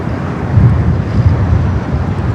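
A ten-year-old American Airlines A321 arriving at Los Angeles airport from Dallas–Fort Worth gives a loud, steady low rumble of engine roar mixed with wind buffeting on the microphone, continuous throughout.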